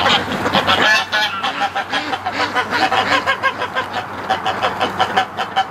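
Three geese honk loudly and repeatedly close by, a rough, rhythmic series of nasal calls running through the whole stretch, with a little talking mixed in.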